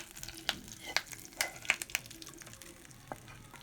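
Curry leaves crackling in hot oil as a tempering for chutney, with soft sizzling and a few sharp pops and stirring clinks spread over a few seconds, close and fairly quiet.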